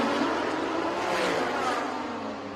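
Lamborghini and Ferrari race cars battle wheel to wheel in a Thailand Super Series race, a dense, continuous engine roar swelling slightly before easing off, with no clear separate passes.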